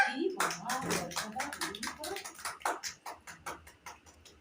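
A child claps hands at a birthday party, the claps starting loose under voices and then turning into a steady run of sharp claps close by.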